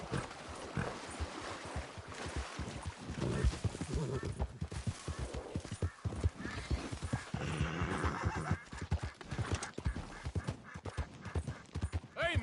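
A horse in the Red Dead Redemption video game gallops with rapid hoofbeats and neighs repeatedly over a busy in-game soundscape, with faint distant gunfire-like cracks.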